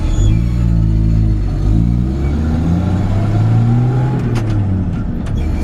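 A 1966 Chevrolet C10 pickup's original 250 inline-six drones loudly from inside the cab, revving up and down as it shifts its column-mounted 3-speed, with rattling near the end.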